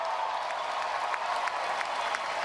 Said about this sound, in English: Well, firing up this crowd ahead of Senator Sanders is Hawaii Congresswoman Tulsi Gabbard